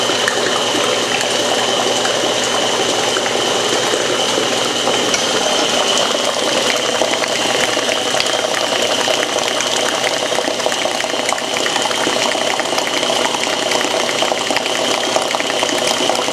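A stand mixer paddle whips peanut butter fudge at rising speed, giving a continuous whirring motor hum with a clattering, churning texture that stays steady and fairly loud throughout.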